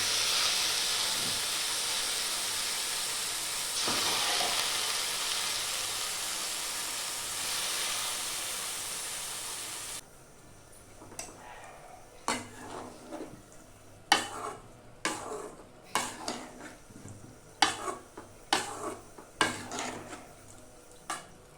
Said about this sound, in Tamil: வெங்காயம் வதங்கிருச்சு மிளப்பு போட்டுக்கலாம்